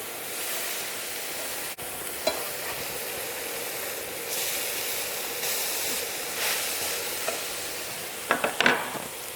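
A smash burger patty sizzles steadily on a hot griddle after being flipped, a continuous close hiss of frying with a few brief scrape or clink accents near the end, no talking.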